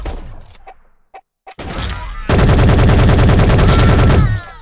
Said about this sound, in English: We're going full on assault rifle.